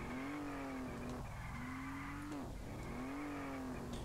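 Video game car stuck in place, its engine droning and revving in repeated pulses while tires squeal and skid, loud and continuous across the whole stretch with no talking.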